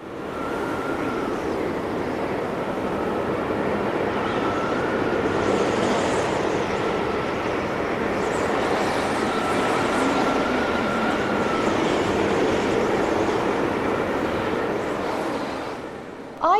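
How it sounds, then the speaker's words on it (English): Field recording of a snowstorm: a steady, loud rush of blowing wind with gusty swells and a faint whistling tone drifting through it, continuous for the whole stretch with no voices. "it's the sound of a snowstorm, and we could hear a sort of a windy sound"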